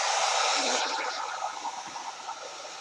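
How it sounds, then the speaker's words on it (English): A steady, loud broadband blowing hiss like a hair dryer running close by, easing slightly in strength partway through. "I think I'm going to hit this with a hairdryer"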